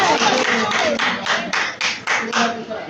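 A group of people claps hands at a gathering, irregular bursts of applause repeating several times over a few seconds with voices mixed in.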